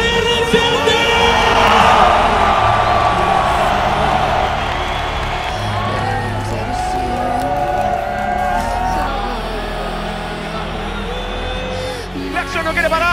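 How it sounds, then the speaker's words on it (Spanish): A large esports crowd at a League of Legends final shouts and cheers loudly and continuously, with whoops and yells swelling in the first seconds before settling into a sustained roar. "¿dónde están los fanáticos de Six Karma? Para escuchar el grito de Movistar RCT."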